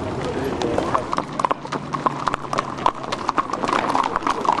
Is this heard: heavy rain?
no